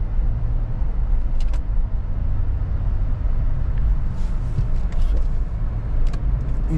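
Steady road and engine drone inside a 2014 Lexus LX570 with its 5.7L V8 cruising on a highway, a constant low rumble with tire and wind noise that never lets up.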